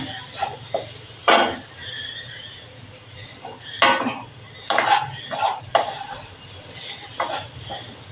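A spatula scrapes and clinks in a pan as a filling is sautéed in ghee, a few louder stirring strokes spaced out over a soft sizzling background, heard close up.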